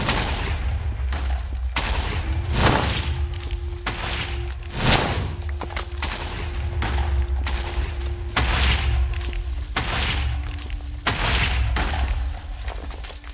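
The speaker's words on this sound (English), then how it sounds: "This is a sick aerial bombardment that just blows up the whole area around you" Heavy 380mm barrage explosions rain down in a Minecraft mod aerial bombardment, a dense continuous string of loud booms and blasts rumbling over a steady low drone.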